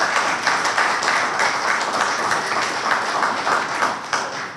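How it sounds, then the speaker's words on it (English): Audience applause after a formal address, dense rapid hand clapping from many people, loud and sustained, then tapering slightly at the close. "And I want to applaud Jeff for this."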